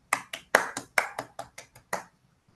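About ten distinct hand claps ring out sharply and close in an uneven pattern, fading off toward the end, as brief applause in an online meeting of a Toastmasters club.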